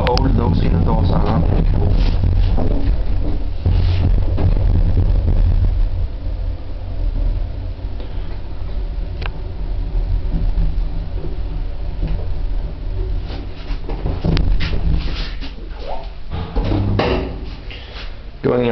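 A 1903 Titan traction elevator, modernised by ThyssenKrupp, rides upward in a Copenhagen building, giving a steady low mechanical rumble with knocks and clunks near the start and near the end, while a person speaks quietly over it.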